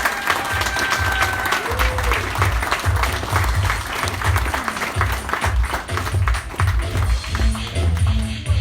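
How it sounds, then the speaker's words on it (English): A crowd at a civic event with the mayor gives visitors a round of applause: dense, continuous clapping fills the space over a pulsing low rumble, loud and sustained throughout. "Let's give a round of applause for all of our visitors."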